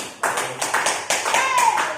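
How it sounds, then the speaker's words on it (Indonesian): Classroom applause, several bursts of hand clapping from a group with some talking over it, close and fairly loud. "Tepuk tangan dulu, Halimah."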